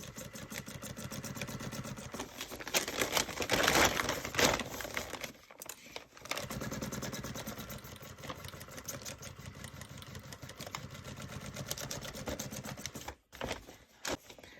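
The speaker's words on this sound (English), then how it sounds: "I'm going to go again, and I'm going to sew in on this edge here" A sewing machine stitches along the edge and handles of a feed sack bag with a rapid, even mechanical chatter that runs close and steady, pausing briefly twice before resuming.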